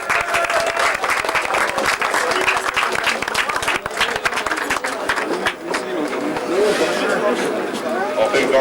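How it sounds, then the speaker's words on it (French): A crowd at a Solex 50cc endurance race at Cora Mundolsheim in 1990 applauds the welcomed guests with a steady, dense clapping that runs throughout, while voices talk over it. "On vous applaudit."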